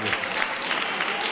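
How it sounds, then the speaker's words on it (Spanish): Brief burst of steady applause from an audience honoring award winners at a geology olympiad ceremony, dense clapping that fills the whole moment. "Pues un aplauso para todos ellos"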